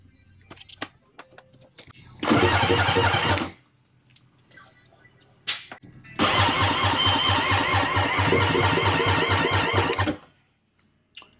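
A Yamaha GP800 jet ski engine cranks over for a compression check in two loud bursts, a short one of about a second and then a longer steady churn of several seconds, with quiet clicks and handling noises between them.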